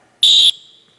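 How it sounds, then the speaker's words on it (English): A single short, shrill whistle blast sounds loud and close during a physical education movement class, cutting off abruptly and leaving a faint ringing tail. "Did not mean to whistle."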